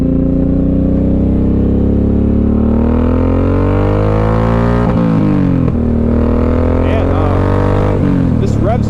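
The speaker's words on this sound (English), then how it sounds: "man, this revs a lot higher than I thought it did." A Suzuki M109R motorcycle engine revs up high, a loud continuous rising drone that climbs in pitch over several seconds, then drops and surges again with quick throttle blips, heard close up.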